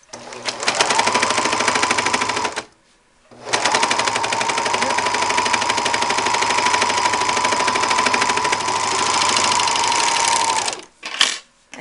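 A serger runs a seam on a scrap of fabric for the hood of a hooded towel. It makes a loud, steady mechanical whir close by, stops briefly after a couple of seconds, then runs on at length before cutting off.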